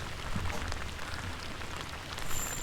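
Rain falls steadily on a rainy day of kayak bass fishing, a soft continuous patter of drops on water and surfaces, fairly quiet and even with no voices.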